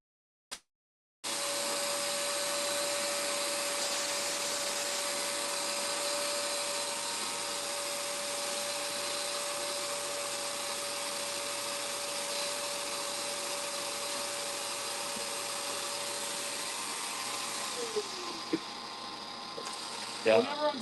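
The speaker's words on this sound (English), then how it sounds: "I gotta make sure I vacuum up all the stuff that's remaining" A loud vacuum roars on abruptly while cleaning a coffee roaster, running steadily for nearly twenty seconds, a faint hum underneath, with a few small clunks near the end.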